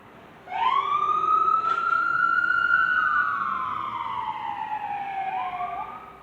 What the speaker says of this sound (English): obligatory pause for the siren. Don't want to scream over it.